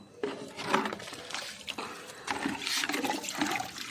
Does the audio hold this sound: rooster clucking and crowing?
no